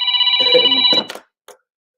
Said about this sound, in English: Sorry, I've got a phone ringing on me.